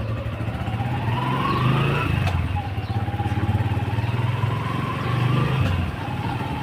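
A Suzuki Hayate EP 110cc motorcycle rides along a road, its engine drone steady and loud throughout with rising and falling pitch as it accelerates, and no voices over it.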